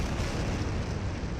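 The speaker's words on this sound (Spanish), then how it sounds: "un meteoro o un fragmento de un meteoro explotó sobre el extremo norte del Mar Muerto" A meteor air burst explosion over the northern end of the Dead Sea comes through as a sustained, dense roar of rumbling blast noise, loud and unbroken throughout.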